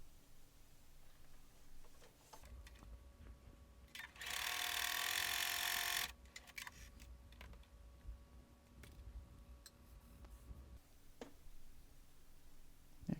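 A sewing machine stitches quilt pieces in a short burst of rapid, loud whirring, framed by quieter clicks and handling of the fabric before and after, with no talk.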